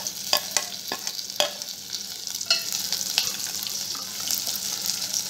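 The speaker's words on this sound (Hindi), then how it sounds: "उसके बाद हम उसमें डालेंगे प्याज, ये भी हमें क्रिस्पी होने तक ही पकानी है" Sliced onions fry over a high flame until crispy, a steady close sizzle broken by sharp spatula scrapes and clinks against the pan, with no talking.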